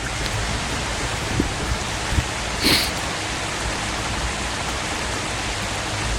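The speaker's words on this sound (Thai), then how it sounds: "ตอนนี้ครับฝนตกนะถนนน่าจะลื่นนะครับ" Rain in the truck-driving game Trucker of Europe 3 falls as a steady, even hiss that fills the whole clip. A few faint ticks and a brief brighter splash surface partway through.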